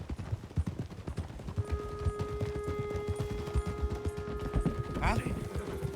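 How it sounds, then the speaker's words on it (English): Horse hooves clip-clopping in a steady, close rhythm in the video game Red Dead Redemption 2, with a brief whinny near the end and a short spoken interjection. "Get a hold of that horse, will you?"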